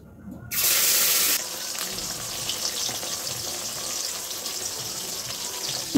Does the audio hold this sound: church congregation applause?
no